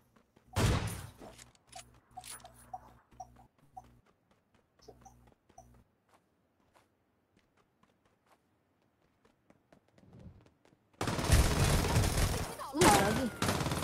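Gunfire and sniping in a video game: a loud burst opens, then scattered mechanical clicks and faint shots, a quiet stretch, and a heavy sustained barrage of fire at the end.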